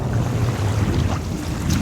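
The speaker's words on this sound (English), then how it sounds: "The wind keeps picking up, drowning us out." Strong wind buffets the microphone on open water off a beach, a steady low roar with constant gusting rumble and faint wave wash throughout.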